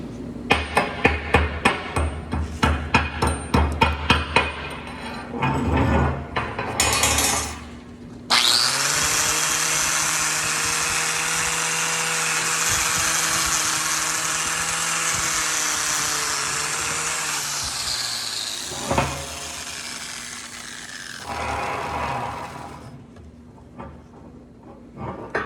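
Slag is cleaned off a welded steel T-joint: a burst of sharp chipping-hammer strikes, then a long, loud, steady whine of a power grinder or wire wheel, followed by a shorter second run and a few final taps.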